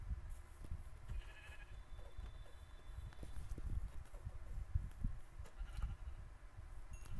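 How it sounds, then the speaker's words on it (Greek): Sheep bleat in Minecraft, a few faint, short calls over a steady low rumble of game ambience, with no talking. "Πρόβατο. Κι άλλο εκεί πέρα."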